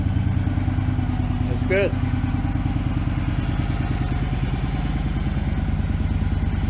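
A Victory Vision Tour motorcycle fitted with a Stage 1 exhaust idles nearby with a steady, moderate, thumping burble, and someone briefly speaks over the engine.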